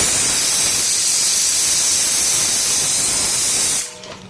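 Mutton pieces sizzle and fry in hot oil for a mutton curry, a loud, steady hiss filling the scene before it drops away abruptly near the end.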